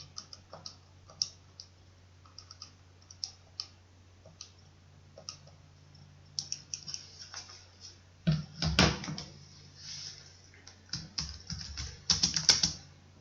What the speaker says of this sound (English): This I'm going to have to do on a scientific calculator, so grab your calculator, type this in.